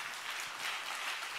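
A church congregation claps hard at a Pentecost conference, a brief, steady wash of dense applause at a moderate distance.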